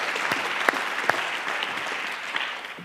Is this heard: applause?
yes